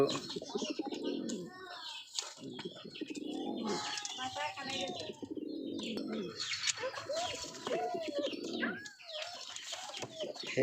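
A mated pair of pigeons cooing close by, repeated throaty rolling coos and soft chirps layered over each other for the whole stretch, with no talking.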